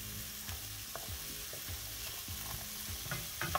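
Onions and carrots soften in a hot pan, a steady sizzle of frying running throughout while a utensil stirs them in scattered scraping strokes, close and fairly quiet, with no talking.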